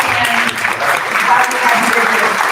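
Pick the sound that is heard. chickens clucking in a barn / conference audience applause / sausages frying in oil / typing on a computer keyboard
conference audience applause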